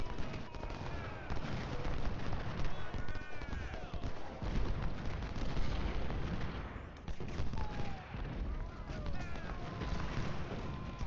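Cannon and rifle fire echo across a Civil War battlefield at Gaines' Mill in Ultimate General: Civil War, a steady rumble of distant booms and crackling volleys under chaotic battle ambience, with a voice talking over it.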